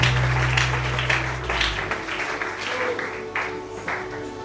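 A church congregation breaks into lively applause, a dense patter of many hands that rolls on and gradually thins, with a few voices mixed in beneath.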